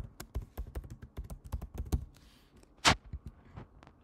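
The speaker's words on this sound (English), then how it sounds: "we can type the location in GeoPick search bar" Close, crisp keystrokes on a computer keyboard as a location is typed into a search bar, coming in a quick run of taps, then a pause and a few scattered presses, including one heavier key near the end.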